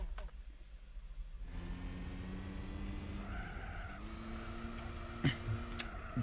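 An Audi TT in Gran Turismo 4 revs hard, its engine tone climbing in pitch through the gears with a brief lift in the middle, sharp tyre chirps near the end, loud and close.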